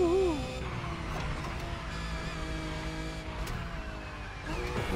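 Car engine in a racing video game accelerating under nitrous boost, a sustained rising whine and roar with brief squealing tones at the start, moderately quiet throughout.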